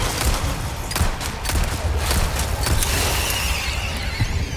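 Rapid machine gun bursts in the video game Resident Evil 4 Remake, a haunted castle fight: dense, loud volleys of sharp shots with a few separate thumps, fairly close and continuous.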